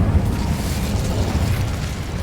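The Incendio fire spell in Hogwarts Legacy, a loud whooshing burst of flame with a deep booming roar that fills the moment, no voice over it.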